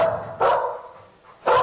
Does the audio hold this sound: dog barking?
yes